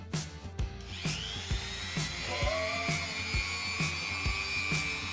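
A precision rotary grinder cutting the arms of a Batman figurine gives a high, steady whine that rises in pitch as it spins up and bites into the plastic, close and continuous with a low rhythmic hum beneath, no talk.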